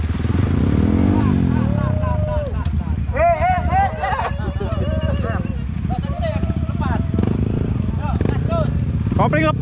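A Yamaha WR155 dirt bike engine revs hard and rises in pitch on an off-road trail, loud and continuous under excited shouting voices.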